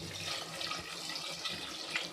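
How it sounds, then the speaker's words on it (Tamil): Water pours into a cooking pot set on a stove while making goat leg soup, a faint, steady trickling splash with a soft drip near the end. "இந்த மாதிரி அடுப்பில் வச்சுட்டு தண்ணி உங்களுக்கு தேவையான அளவு ஊற்றிக்கணும்."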